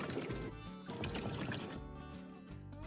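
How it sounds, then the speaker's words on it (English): Water sloshing and gurgling inside a car's rear door, heard up close as the door moves, with uneven liquid splashes rising and falling over a low background rumble. "this customer said that they keep hearing water sounds when they open the rear door"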